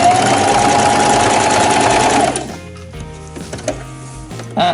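A sewing machine stitches a straight hem on small Barbie doll pants, running loud and close with a rapid steady whirring clatter for about two seconds, then stopping to a few quieter mechanical clicks and knocks.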